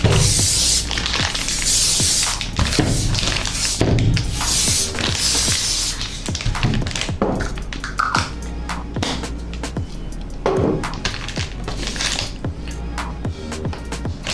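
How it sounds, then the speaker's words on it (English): Repeated bursts of zinc spray hiss from an aerosol can, several long blasts and shorter puffs, close and loud, with handling clicks between, applied to a three-way passive crossover network. "So I'm using spray on this also to be safe."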